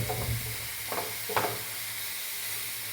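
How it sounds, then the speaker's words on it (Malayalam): A curry is stirred in a pan, giving a few soft scraping strokes over a low steady sizzle of frying, fairly quiet and close, with no voices. "നല്ലതുപോലെ ഒന്ന് ഇളക്കി വയ്ക്കുക."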